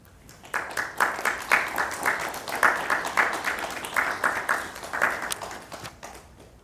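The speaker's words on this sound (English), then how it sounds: "Please join me in recognizing all graduates who have received their degrees with one last" Sustained applause from a crowd honoring graduates at a North Carolina Central University commencement, dense clapping swelling and fading in waves for several seconds with no talk.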